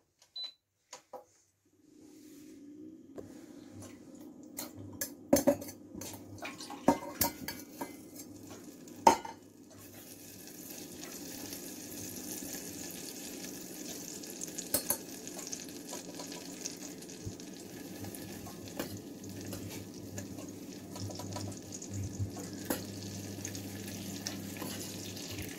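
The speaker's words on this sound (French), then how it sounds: "Je commençais de fondre le beurre." Butter melts in a pan on a stove, starting with a few scattered clinks and taps of a utensil, then settling into a soft, steady low sizzle with occasional light scraping as it is stirred.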